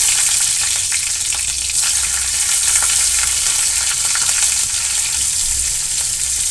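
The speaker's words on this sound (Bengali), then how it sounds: "এবারে আমি তেলের মধ্যে দেব পাঁচ ফোড়ন তেজপাতা এবারে দেব লঙ্কা কুচি" Panch phoron, bay leaf and chopped chili frying in hot oil for a small-fish winter recipe, a loud continuous sizzle with faint stirring, close up and with no talk.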